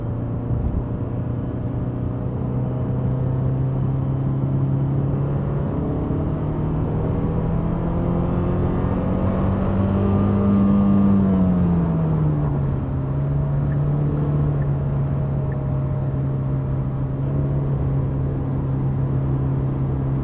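A Genesis G70 accelerates hard, a loud, steady engine drone rising in pitch toward a peak, then easing back after a shift, all heard from inside the cabin without talk.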